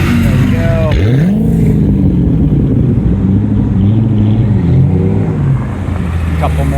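A Chevrolet Corvette Z06 and a Ford Mustang drive past at a Cars & Coffee meet, loud engine rumble and rising revs from close by, blended with crowd chatter throughout.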